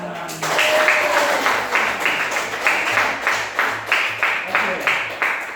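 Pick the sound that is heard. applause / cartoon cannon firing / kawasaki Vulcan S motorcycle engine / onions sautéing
applause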